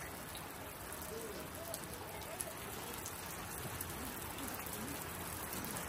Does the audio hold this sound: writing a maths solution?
no